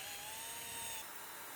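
A power drill fitted with an 8.5mm bit bores a hole during a Rhino-Rack Backbone install on a Jeep Gladiator JT, giving a steady high whine that drops in pitch partway through the brief clip.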